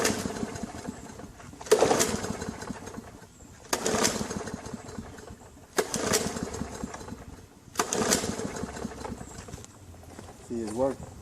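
Small lawn mower engine, freshly fitted with a new ripcord, running unevenly with repeated surging bursts roughly every two seconds, close by, while someone talks between the bursts.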